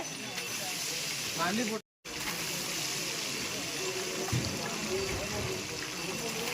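Chicken pieces dropped bit by bit into hot oil in a large pot for a village feast, giving a steady broad sizzling hiss with a brief cutout partway through.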